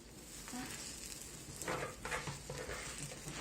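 Takoyaki batter sizzling steadily in a hot pan as the balls are flipped, with soft scraping stirs and small crackles over a constant frying hiss.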